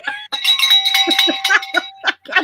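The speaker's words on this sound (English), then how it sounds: "noticed I have my green bell today" A green bell rings in quick repeated strokes, bright metallic tones with a sustained high ringing that carries through nearly the whole stretch, close and fairly loud.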